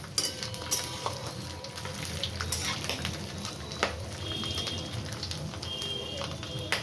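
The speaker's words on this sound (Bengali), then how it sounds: "নারকেলটা একটু লাল লাল ভাজা হোক" Coconut frying in a pan for homemade cholar dal, heard as a close, continuous hiss and crackle with occasional stirring clicks, steady and fairly quiet, without speech.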